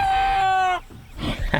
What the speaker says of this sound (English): Come on, Isis, give a crow, give a crow.